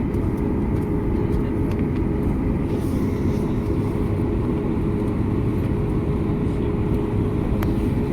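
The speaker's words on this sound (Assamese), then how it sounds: "এয়া প্লেনখন চলিবলৈ আৰম্ভ কৰিলে" Passenger airplane beginning to roll for takeoff, heard from inside the cabin as a loud, steady low engine roar and rumble that holds evenly throughout.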